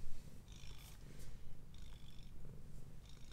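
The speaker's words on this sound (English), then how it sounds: "And he's purring so loudly." A cat purrs loudly and steadily up close, with rhythmic breathing cycles and no talking over it.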